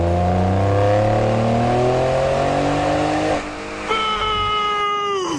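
Ford Raptor twin-turbo V6 engine revving loudly and steadily climbing in pitch, briefly dropping off mid-clip before picking up again with rising tones, no talking.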